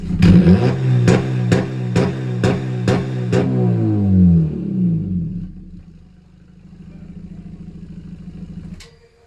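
A Honda FB7 car revs with its exhaust cutout open on the stock exhaust system with the catalytic converter still fitted, giving a string of sharp, loud throttle blips, then the engine drops back to a low idle.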